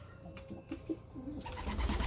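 Pigeons coo softly around their nest in a few low, rounded calls, close by and alone against a quiet background.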